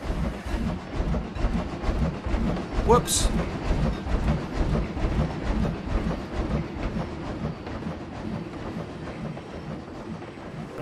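A train rolls past in the Planet Coaster theme-park game, a steady rumbling clatter of wheels on track running the whole time, with a brief sharp squeal partway through and a voice speaking over it.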